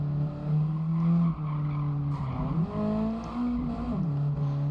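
Racing car in Gran Turismo 7, engine droning with gliding pitch shifts as it brakes, downshifts and accelerates through a tight right-hand turn, tyres squealing and skidding loudly over it.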